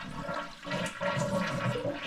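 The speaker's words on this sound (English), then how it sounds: "drain the tank all the way out." Toilet flushed with its water supply shut off to drain the tank, a close rushing gurgle of water emptying from the bowl and tank over a couple of seconds.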